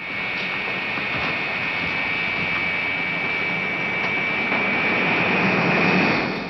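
Airplane engines in a 1960 Twilight Zone episode about a last flight: a steady jet-like roar with a high whine, continuous and fairly loud.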